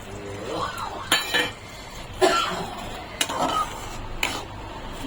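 Cornflour slurry stirred into chutney in a pan, a few distinct metallic clinks and scrapes of a spoon against the pan over a faint background hum.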